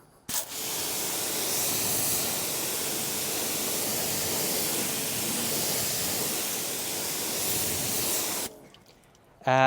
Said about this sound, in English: let's give it a rinse on the white nozzle